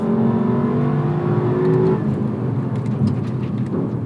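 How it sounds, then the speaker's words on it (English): A 2018 Lexus LC500 engine works through a downshift in manual mode. A loud, steady drone holds a tone, then the pitch changes around the gearchange and the engine keeps rumbling close up, with no speech. "I thought I had 2 downshifts? We're in manual mode."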